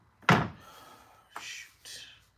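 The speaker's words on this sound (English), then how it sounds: "All right, here go the press. Pulling up the press." A DTF heat press pulled open, giving one loud thunk followed by two softer mechanical clunks a second apart, close by, with a voice briefly in the background.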